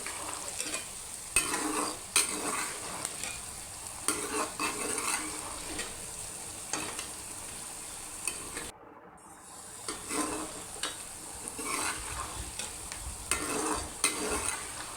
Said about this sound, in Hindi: अब आप इसमें चम्मच हिलाते रहें। देखें पकने शुरू हो चुके हैं,